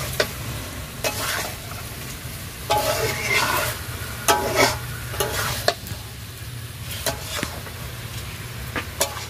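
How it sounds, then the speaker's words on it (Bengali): Whole potatoes for aloo dum sauté in a pan, a steady sizzle under repeated scraping and stirring strokes of a spoon, close and fairly loud throughout. "এবারে আমি এটাকে কষতে থাকবো খানিকক্ষণ।"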